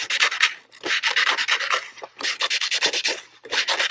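Scissors cut freehand through paper in quick, rasping snips, close up and fairly loud, in bursts of several strokes with brief pauses between them.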